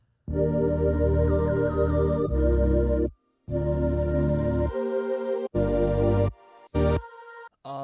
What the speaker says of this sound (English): this little vocal ad-lib that I just drenched in reverb